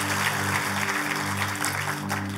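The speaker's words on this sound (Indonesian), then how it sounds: "Mari kita kasih tepuk tangan sekali lagi yang meriah buat Tuhan kita." A church congregation gives a lively round of applause, a dense, steady wash of clapping heard over a constant low electrical hum.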